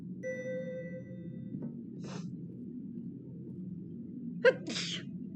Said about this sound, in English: I didn't realise I needed to sneeze